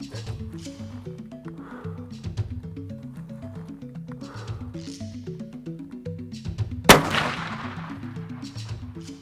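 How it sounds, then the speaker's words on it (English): A single loud .416 Ruger rifle shot fired while sighting in on a range during a Mozambique hunting trip, one sharp close crack with a brief tail over steady background music. "So we're just gonna make sure this gun's still sighted in."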